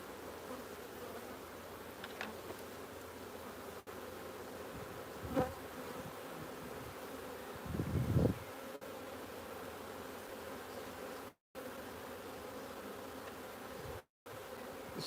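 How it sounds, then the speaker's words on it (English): Black honeybees hum in a beehive, a soft continuous buzzing drone at low level with a few brief louder swells as bees pass nearby. "I hate doing this with black bees because I really do not want to have to dig out stings out my fingers"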